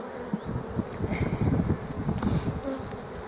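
Honey bees buzz at an open hive during spring inspection, a steady, close, dense hum of many insects with no talk.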